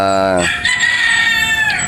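A gamefowl rooster crows loudly nearby at a game farm in Batangas, one long drawn-out call with a rough, wavering tail, other birds faint behind it.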